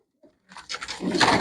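Domestic pigeons kept for sale coo close by, first a soft short call, then a fuller rising run of cooing and fluttering murmurs, with no speech.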